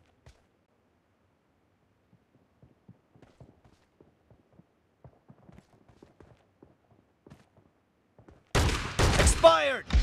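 Gunfire in the video game PUBG Mobile starts as faint scattered taps over near silence, then a loud dense burst erupts at the end, mixed with a voice.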